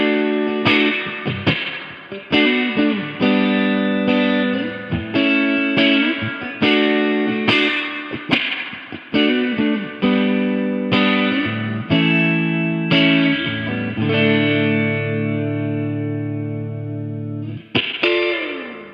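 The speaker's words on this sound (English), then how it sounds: "It's a spring reverb unit, which can be a tough style to pull off." An electric guitar through a Boss/Fender spring reverb pedal plays a run of picked chords and single notes, each one trailing off in a splashy, springy reverb wash. The end rings out.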